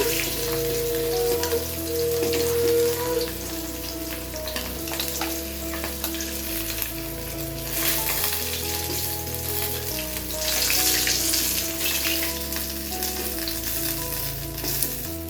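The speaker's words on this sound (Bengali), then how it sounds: "হালকা একটু এপিট ওপিট করে ভেজে নিয়েছি" Fresh katla fish fries lightly in hot oil, with a loud, continuous crackling sizzle up close and bursts of spattering that swell and ease as the pieces are turned, with no talk.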